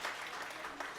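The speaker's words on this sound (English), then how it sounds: "Clap." An audience at a show claps briefly, a dense, even patter of applause at moderate volume, with no voices over it.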